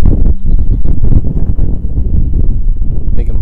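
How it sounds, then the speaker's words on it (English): Strong wind buffets a microphone outdoors, a continuous loud low rumble with gusting roar throughout, and a brief faint bird chirp near the end. "It's freaking windy out here."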